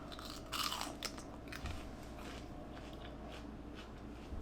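Crisp bites into fresh pea pods dipped in ranch, a few sharp close crunches at the start followed by steady chewing against a constant background hum.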